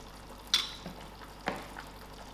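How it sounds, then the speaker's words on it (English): Potatoes dropped into a pot of cooking borlotti beans, a sharp splash or clatter followed by a second softer one, then a quiet steady simmer and sizzle with no talk. "Now I'm adding in my potatoes."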